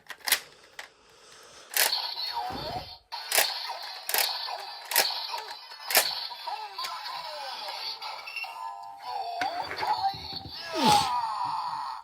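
Sharp clicks and bursts of bright electronic tones, with warbling chimes and sweeping synthetic effects from a Gokaiger Mobirate toy morpher transformation gadget, layered over one another.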